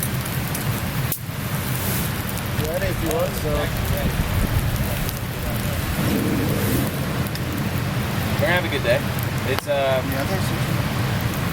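Light drizzle patters steadily on a winter campsite in freezing rain, a constant close hiss under people chatting, with occasional soft knocks.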